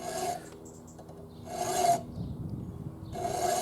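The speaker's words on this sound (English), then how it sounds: "let's drag it back 3 times to give ourselves a groove" A small handsaw is drawn backward three times across wood to start a groove, each stroke a short raspy scrape separated by quiet gaps, close and alone.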